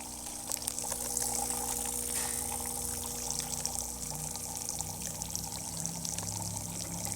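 A Gaggia Classic Pro espresso machine, freshly serviced, dispenses hot water in a steady, continuous stream with a pump hum underneath, close and unbroken throughout.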